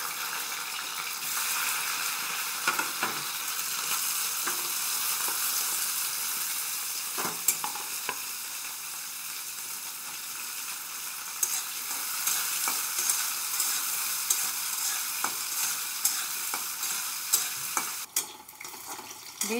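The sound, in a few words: green beans frying in oil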